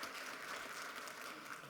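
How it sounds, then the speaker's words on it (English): Audience applause at an economic and real estate symposium, heard as a faint, distant, even patter of clapping with no talking over it. "Oh, go ahead and clap."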